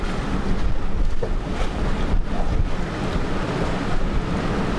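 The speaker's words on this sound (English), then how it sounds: "All right, the storm just came in." Strong storm wind buffets an anchored sailboat at around 18 to 20 knots, a loud, continuous roaring rush with gusty surges and waves slapping close by, with no speech.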